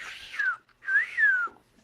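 A person whistles in imitation of a whistling duck's call, giving two clear, close, falling whistled notes with a short gap between them, heard with no other sounds.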